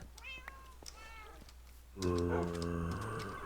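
Cats meowing in the video game Minecraft: a few thin, rising-and-falling mews alone at first, then a louder, sustained, tonal meow that fills the second half.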